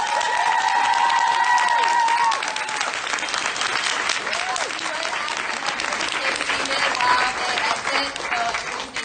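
A convention panel audience at Fan Expo Canada applauds the Wynonna Earp cast: loud, sustained clapping from a large crowd that holds for several seconds, with scattered voices and cheers mixed in.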